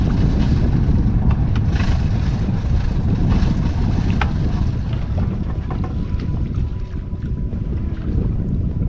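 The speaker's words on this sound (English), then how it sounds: "We set the jib and strictly sail as soon as possible." Sailboat under jib in steady wind: a constant loud rush of wind and water noise with buffeting against the microphone, continuous throughout with no pauses and no talk.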